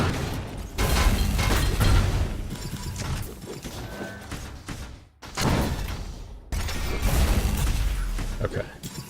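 Rocket jump explosions in the Reflex arena shooter on the Aerowalk map, several loud booming blasts and bursts separated by short gaps, with a commentator's voice talking over the action.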